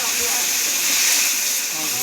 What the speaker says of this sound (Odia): ଡାଲମା ଛୁଙ୍କ କରିଦେଲି